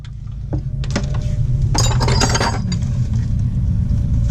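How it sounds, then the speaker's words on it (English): A suspension bushing is pressed out of a Mazda RX7 rear, giving a few sharp metallic clicks and a burst of creaking, grinding metal strain over a steady low mechanical hum. "That bushing's coming out."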